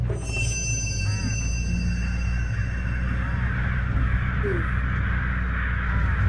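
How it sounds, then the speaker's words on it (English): Crows caw repeatedly in a video game, their harsh calls layered over a steady low drone, with a faint voice in the background. "Those crows. Something about the crows."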